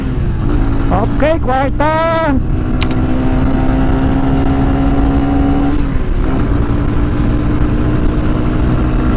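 A QJ Motor SRV 200 motorcycle on a straight road at Subic Bay is revved hard to about 8,000 rpm at full throttle. Its engine rises and holds a loud, sustained drone with wind rush, and a rider talks briefly near the start.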